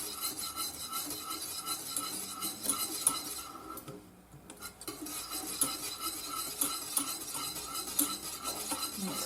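A spoon steadily stirs thick lemon curd with melting butter in a pan, producing continuous scraping and soft clinks against the metal, with a brief lull midway before the stirring resumes. No one speaks.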